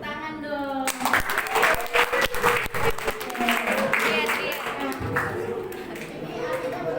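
An audience bursts into applause with scattered claps and cheers rising after a voice over a loudspeaker, mixed with crowd chatter and children's voices, loud and sustained.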